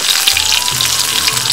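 Mustard seeds crackle and sizzle in hot oil in a pan while an Andhra gongura pickle is being made, a steady close frying hiss dotted with small pops and no talk.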